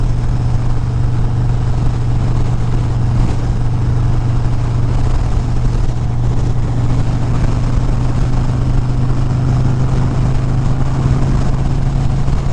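Wind roars loudly and steadily around a moving car, a dense unbroken rush layered over a low engine drone from start to finish.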